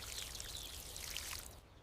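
Water pours gently onto flowers from close by, a soft continuous trickle and splash lasting under two seconds before fading.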